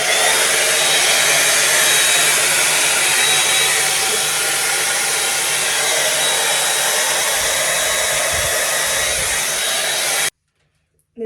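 A blow brush dryer styling hair runs as a continuous loud, steady whoosh for about ten seconds, then cuts off abruptly into near silence.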